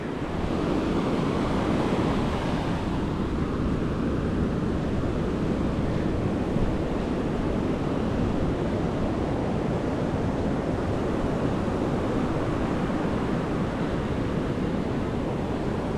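Steady surf washes ashore at Karon Beach, Phuket, Thailand, during monsoon season, a continuous broad roar of breaking waves mixed with wind buffeting the microphone, with no voices.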